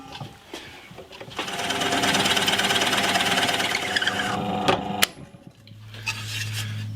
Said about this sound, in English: I'm going to go for a slightly bigger 30 mil Forstner bit.